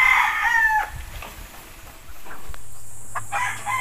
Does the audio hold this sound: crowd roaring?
no